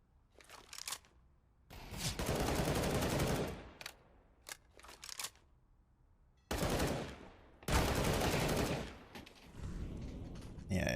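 Hand cannon pistols fire in Counter-Strike on the Overpass map, arriving as separate loud bursts of gunfire broken by quieter gaps.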